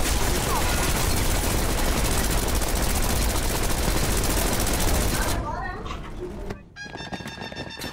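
Dense, rapid gunfire from a movie fight scene pours out loud and continuous for several seconds, then breaks off into quieter scattered shots.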